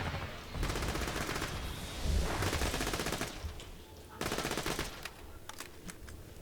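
Pistol gunfire in the video game Borderlands 2, fired in rapid volleys over dense game sound and effects, loud and continuous before thinning into a few separate shots near the end.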